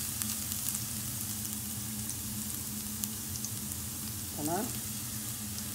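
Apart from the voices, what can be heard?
garlic cloves frying in hot olive oil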